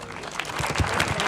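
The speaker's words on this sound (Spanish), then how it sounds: "Recibimos ya con un fuerte aplauso a Jorge Bascón." At a talk on plurilingual education in Alicante, an audience gives applause to welcome a guest speaker, a steady, moderate wash of many hands clapping at a slight distance, building a little toward the end, with no talk over it.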